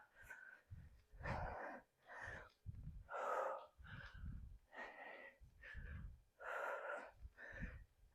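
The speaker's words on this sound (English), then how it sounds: "Inhale down, exhale up." Heavy rhythmic breathing during bodyweight squats in a quads and hamstrings workout, with loud wheezy inhales and forceful exhales alternating steadily about a dozen times, close up and with no talking.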